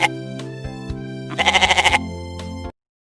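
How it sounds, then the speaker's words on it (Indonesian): A goat bleats in a few short calls, then gives one loud, quavering, trembling bleat, close and clear, with no other sounds before it cuts off. "Itu tadi adalah suara hewan kambing."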